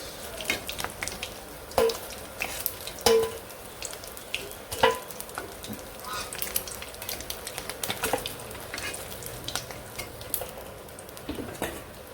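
Vegetables sizzle in a pan of oil right after fish has been fried, with a steady soft frying hiss, occasional stirring clinks and scraping, close and moderate in level, with no talking.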